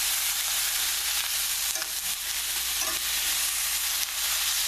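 Onions browning in a frying pan for a cod fillet lyonnaise give a steady close sizzle, broken by a few soft scrapes as they are stirred now and then.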